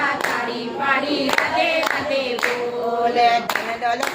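Rhythmic hand clapping keeps time through a devotional Radhe Radhe bhajan, steady claps ringing out over singing voices and accompaniment at a lively, even pace.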